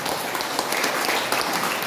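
A church congregation at a Christmas service breaks into continuous applause. The clapping is dense and even and fills the whole moment.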